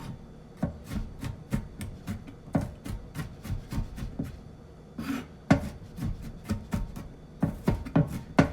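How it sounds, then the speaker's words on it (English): Knife chopping Easter ham on a cutting board: a steady run of sharp, close knocks, roughly two to three per second, with brief gaps and a quicker flurry near the end. "Just let the knife do the work, chopping it up."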